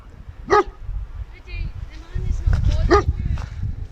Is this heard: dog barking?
yes